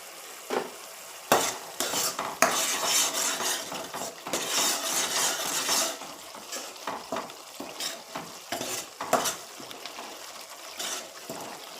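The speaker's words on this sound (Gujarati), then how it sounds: "ગરમ મસાલો મારી અને બરાબર હલાવવાનું છે" A spoon scraping and clinking around a pan as garam masala is stirred into a spicy peanut bhajiya curry, with irregular metallic strokes over a soft sizzle nearby.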